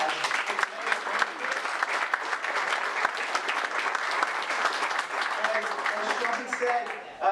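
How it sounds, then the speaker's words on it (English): An audience at a train station funding celebration claps in a sustained, dense round of applause lasting several seconds, even in level and moderately loud, with a faint voice underneath. "a big round of applause"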